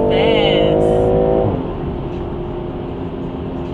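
A BMW 340i with standard turbos revs and accelerates close by, a loud rising engine note that drops back into a steady lower drone.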